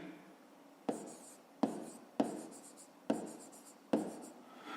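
Handwriting during a fifth-grade math exercise: five separate pen or marker strokes on paper or a board, each a sharp scratchy onset fading out, spaced roughly a second apart, close and fairly quiet with no talk.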